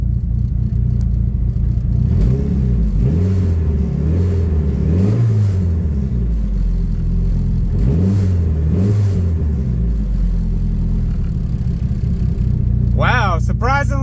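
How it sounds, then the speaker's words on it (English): Dodge Neon engine, warmed up and checked for knock, given a couple of revs: loud steady idle rumble with two rising-and-falling rev sweeps, and brief talk at the end. "I guess the only thing left to do is give it a couple revs"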